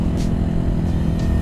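A Suzuki 250 SB dual-sport motorcycle, a rebadged Kawasaki KLX 250, being ridden on the road, its engine a steady low rumble heard up close throughout the short stretch with no speech.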